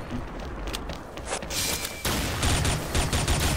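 Sustained automatic gunfire in the XSHOT shooter video game: a dense, loud stream of rapid shots that swells in the second half, with no pauses.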